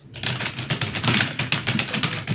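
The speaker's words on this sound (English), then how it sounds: "This keyboard is loud." Rapid, loud clattering of a cheap computer keyboard's keys, close up and continuous, with no voices.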